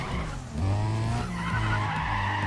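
Car tires squealing through a handbrake drift in the Need for Speed ProStreet racing game, a sustained tonal screech over a revving engine, loud and close.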